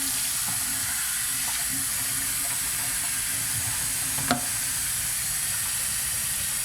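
Water runs steadily during the wash step for homemade caffenol-developed photographic film, a constant close hiss and splash with one brief knock partway through.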